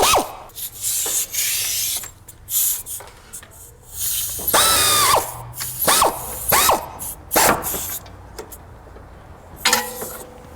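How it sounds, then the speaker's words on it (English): The rear alternator bolt on a Ford 500 is tightened with a wrench, giving close, repeated metallic rasping and scraping bursts with short pauses between them and no voices. "Go ahead and put your back bolt back on now and get it tight."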